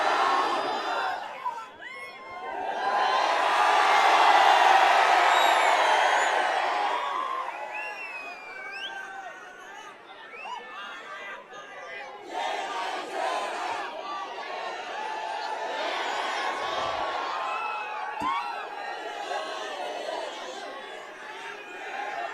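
A large political rally crowd answers the Nara-e-Takbir slogan with a swelling roar of shouts and cheers that peaks and fades, then settles into sustained crowd chatter and calls from far off.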